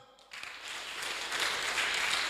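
A room of people at a Sunday church children's gathering breaks into clapping after a brief pause, the applause swelling and holding steady, fairly near and loud.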